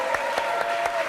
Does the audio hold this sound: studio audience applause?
yes